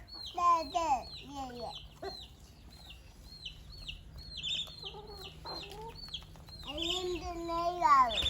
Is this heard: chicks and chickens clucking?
yes